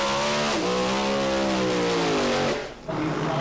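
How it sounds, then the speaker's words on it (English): A V8 dragster roars through a burnout at a drag race, engine howling loud and close with rising and falling revs, a brief dip in volume near the end before the roar resumes. "And it's Gerd Habermann with his V8 engine dragster completing his burnout."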